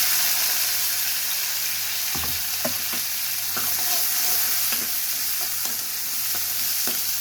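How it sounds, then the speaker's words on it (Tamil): Onions and black pepper sautéing in a pan for a village-style mudakathan kuzhambu, a steady close sizzle with scattered stirring knocks and scrapes throughout, no talking. "இதெல்லாம் பொரிஞ்சதும் நம்ம இது கூட வந்து வெங்காயம் சேர்த்து வதக்கிக்கலாம்"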